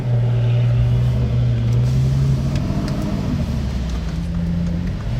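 A Pagani Utopia with an AMG V12 engine rumbles nearby on a Monaco street, its deep steady drone shifting pitch slightly as it idles and rolls past, with faint street noise around.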